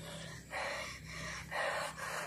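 Heavy, rapid panting from someone resting partway up a tiring climb, several loud gasping breaths in bursts, close to the microphone with no talking.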